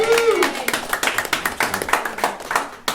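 Audience members at a book launch party clap rhythmically along to a song, a run of regular, fairly close hand claps at a steady beat, with a voice and music briefly audible at the start.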